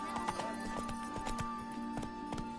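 Horse hooves gallop in The Witcher 3, a quick, rhythmic clip-clop of repeated hoofbeats at moderate distance, steady and fairly quiet throughout.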